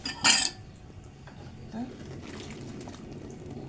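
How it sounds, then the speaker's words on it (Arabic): A cooking pot of stuffed vegetables is shaken, giving a sharp metallic clatter of the lid and pot at the start and then a quieter rattle and faint bubbling. "هز الايه الحله كده"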